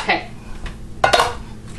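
A metal spoon clatters against a stainless steel pot while stirring a pickling brine, with two distinct scraping, clinking strokes up close, loud and bright.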